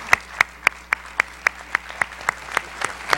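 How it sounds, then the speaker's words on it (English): Audience applause at an academic honors convocation, with one close, crisp clapper keeping a steady beat over a softer, more distant crowd of hands. "Let's give him a big round of applause"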